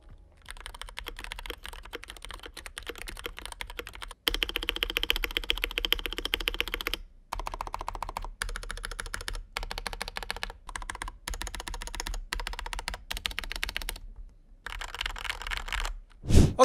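Fast, steady typing on a Fantech MAXFIT61 mechanical keyboard fitted with a PE foam mod, a close, dense clatter of key clicks in bursts separated by short pauses, with no voices.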